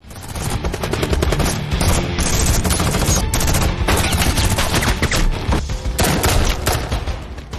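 Dense, sustained gunfire from a film action scene, rapid automatic bursts and shots blending into a loud, continuous barrage with no talk.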